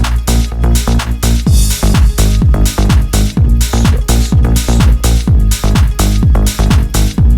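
A full house groove plays loudly, steady kick and bass driving along with a sustained synth pad washing over the top and bright percussion.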